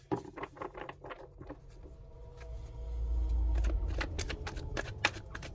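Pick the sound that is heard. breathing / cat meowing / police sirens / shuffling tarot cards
shuffling tarot cards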